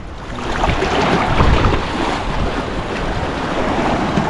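Loud, continuous roar of sea waves and surf with wind buffeting the microphone, no voices, a constant rushing wash throughout.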